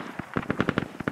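A rapid automatic-weapon burst of about ten sharp, evenly spaced shots cracks out during infantry combat in the military video game Squad, loud and close with no talk.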